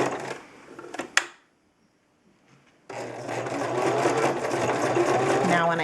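A sewing machine stitches fabric for a quilted postcard, running in a steady, close, continuous whir after a brief quiet pause that follows a few clicks and handling noises.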